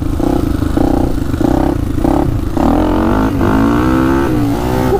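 A Honda 400ex ATV with a 416cc big bore engine and stage 2 Hotcams accelerates up through the gears, a close, loud buzzing exhaust that revs in short pulses, then pulls long and steady in second gear.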